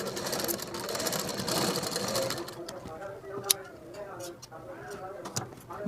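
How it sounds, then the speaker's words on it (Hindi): A sewing machine runs in a steady rapid whir, stitching doubled fabric to make a blouse tassel, then slows and stops partway through while a person speaks nearby. "इस तरह से डबल करके सिलाई लगा देंगे।"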